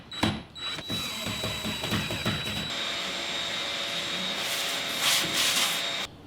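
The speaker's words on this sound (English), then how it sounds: "Let's go ahead and screw this thing down." A power driver screws down a trolling motor base on a 14-foot aluminum jon boat, with a steady whirring drive running continuously and close, plus a few knocks and scrapes at the start.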